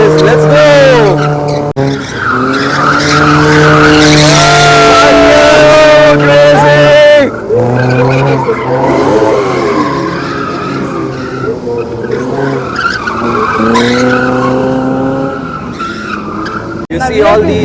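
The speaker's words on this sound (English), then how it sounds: "the main thing of drifting is you burn the tires" Car drifting at a drag meet, tires squealing long and loud with screeching skids and revving engine, the howl rising and falling in sweeping waves close by, with a brief pause between runs.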